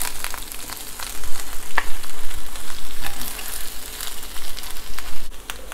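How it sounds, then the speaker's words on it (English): Hand-torn cabbage stir-fried Szechuan style in a hot pan makes a loud, continuous close-up sizzle, with surging crackles as the leaves are tossed and stirred. "now get in with the cabbage. Try to give your best stir to it."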